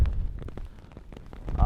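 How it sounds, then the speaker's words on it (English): Rain falls outdoors in the northern Sahara, a close, uneven patter of drops striking a surface with low rumbling gusts, continuous and moderately loud for a brief stretch. "I'd rather it wasn't raining at all, because now I'm getting very cold"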